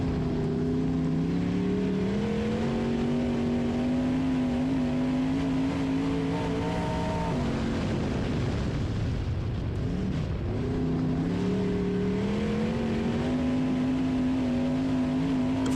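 A race car engine drones loudly through test laps, its pitch climbing and holding, dipping briefly as the driver lifts off, then rising again. The engine sound is steady and close, with no talking.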